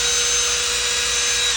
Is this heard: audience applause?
no